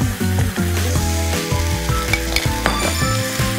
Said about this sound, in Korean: 마늘이 살짝 익으면은 준비해놓은 소스를 같이 넣고 부어주세요